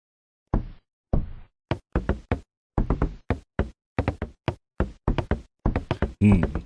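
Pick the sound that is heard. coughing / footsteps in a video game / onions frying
footsteps in a video game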